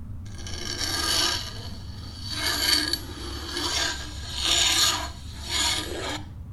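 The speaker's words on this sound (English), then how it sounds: "It sounds like something scraping against stone." A harsh rasping scrape, like something dragged against stone, comes in five rhythmic strokes with short pauses, close and fairly loud over a low background hum.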